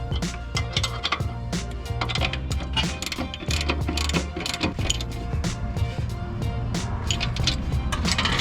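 Ratchet tightening nuts while installing TEIN front coilovers on a Lexus IS F, a fast continuous clicking of the pawl with rapid rhythmic strokes, close and steady throughout.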